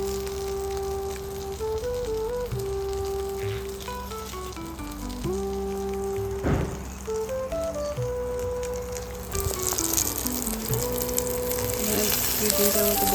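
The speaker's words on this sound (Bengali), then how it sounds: "দুই তিনটার মতো বেগুন ভাজা করে নিচ্ছি" Sliced brinjal (eggplant) frying in a pan makes a steady soft sizzle under a melodic music track, with the crackle growing louder and brighter near the end.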